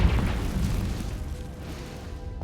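A Confringo spell blast in a Harry Potter video game set in a dusty, cobwebbed space, a short muffled boom that fades out over a couple of seconds.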